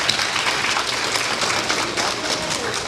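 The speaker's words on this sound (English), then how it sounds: "please give yourselves a round of applause" Students clap at a career and technical education completers ceremony, a short, even burst of applause from a sizable group held at a constant level.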